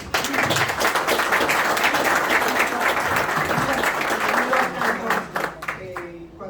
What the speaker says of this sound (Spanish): quiero que le demos un aplauso